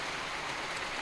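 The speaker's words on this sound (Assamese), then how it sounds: "নেৰানেপেৰা বৰষুণ সমান্তৰালকৈ ধুমুহা বৰষুণ শিলাবৃষ্টি" Heavy storm rain in Upper Assam pours down as a dense, steady hiss of drops hitting surfaces, loud and close, with no voices over it.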